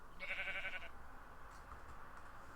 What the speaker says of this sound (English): Now let's get me a sheep.